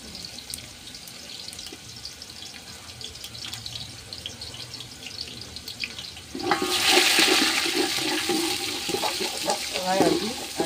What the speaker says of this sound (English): I'm frying my onion.